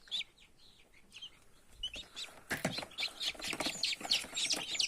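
Newly hatched chicks cheep in quick, high-pitched peeps beside an incubator, scattered at first and growing busier and louder, with soft rustling and clucky calls mixed in nearby.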